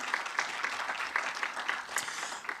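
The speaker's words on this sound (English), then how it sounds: "please give them a good round of applause" Conference audience in Ostrava applauds the Czech delegates, a steady wash of many hands clapping at moderate distance, fairly soft and continuous.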